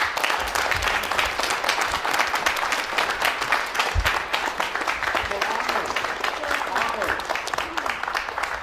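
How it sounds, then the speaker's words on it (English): Applause for a care home team at a COVID-19 vaccination event in Ontario, sustained dense clapping from a group throughout, with talk heard under it. "the team here deserves a big round of applause"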